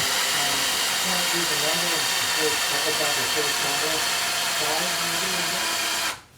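A cordless drill with a dying battery whirs steadily and close, its motor straining slightly, then winds down and cuts off at the end.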